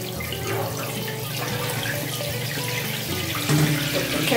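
Hot water running from a tap for a Chihuahua's bath, a continuous close gush into the tub that holds steady and swells louder near the end, with no talk.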